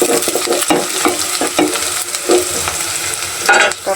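Cumin seeds and spices frying in a pan, a steady crackling sizzle with stirring scrapes and clinks throughout, close and fairly loud, with no talk.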